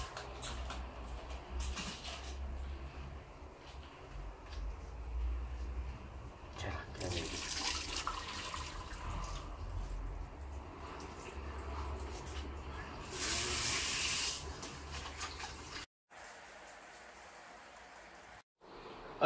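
Hot water poured over pork bones for blanching, a steady splashing pour with a brighter rush of water partway through and again later, then cutting off near the end.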